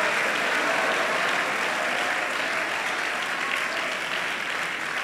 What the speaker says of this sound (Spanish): Puede darle un fuerte aplauso al Señor